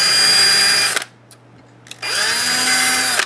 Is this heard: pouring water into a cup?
no